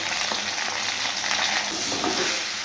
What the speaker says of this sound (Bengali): এবার আলুগুলো দিয়ে একটু ভেজে নেব বেগুনগুলো দিয়ে দেবো